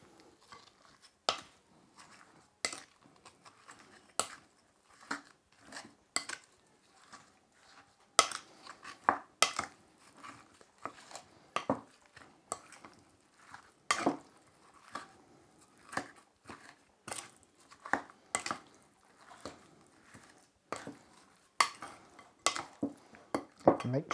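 Spareribs are tossed with soy sauce and seasonings in a bowl, giving a series of irregular clinks and wet knocks of a utensil against the bowl, close and quiet, with short pauses between strokes.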